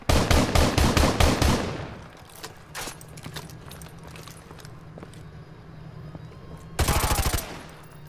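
Loud rapid automatic gunfire from the video game Call of Duty Modern Warfare 2 rattles out in a fast burst, fades into scattered background shots and noise, then erupts again in a second sharp burst near the end.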